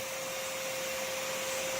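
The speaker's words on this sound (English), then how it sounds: "I let them go in, and they get sucked right into the vacuum" A vacuum runs with a steady loud roar and a constant whine while sucking adult insects out of a nest through its nozzle, unbroken throughout and with no talk.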